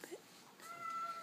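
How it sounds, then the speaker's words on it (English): A kitten named TJ, about to be bathed, gives a faint, brief meow followed by a thin, drawn-out higher cry, quiet and close against a soft room hush. "we're gonna bathe this little poor kitten here"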